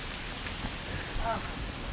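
Steady rain pouring down in a dense, even hiss, close and continuous, with faint speech mixed underneath.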